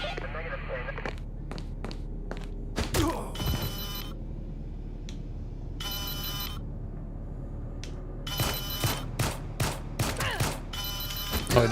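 Gunshots sound in a video game: several sharp bursts in quick groups, loud and close, with pauses between and a voice talking through the clip.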